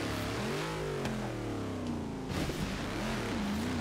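A car engine in the Forza Horizon Hot Wheels expansion racing off-road across snowy land, revving up and down in rising and falling pitch sweeps, loud and continuous.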